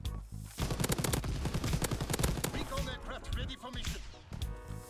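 MG42 light machine gun in the Call of Duty WW2 video game, rattling out rapid close bursts of automatic fire that sweep through most of the stretch, with game voices and effects mixed in toward the end.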